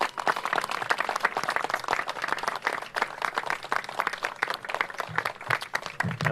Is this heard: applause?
yes